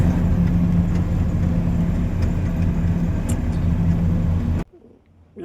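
A truck drives along a four-lane highway with a loud, continuous low engine and road rumble that stays steady for several seconds, then drops abruptly to near silence.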